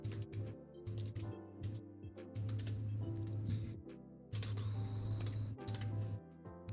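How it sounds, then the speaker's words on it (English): Steady typing on a new full-size computer keyboard, a close, continuous patter of key clicks in bursts with brief pauses between runs. "Ever since I switched to this new keyboard, since my other keyboard died, I've been like misspelling everything and like missing the keys"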